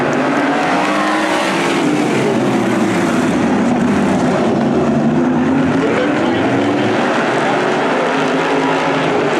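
Winged sprint cars racing on a dirt track, loud roaring engines sweeping past with rising and falling pitch as the pack goes by, continuous and close.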